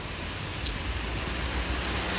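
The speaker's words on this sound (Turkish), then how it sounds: "Dışarıda yağmur yağıyor ama benim şemsiyem yok." Steady rain falling outdoors on a city street, a soft continuous hiss with no talking.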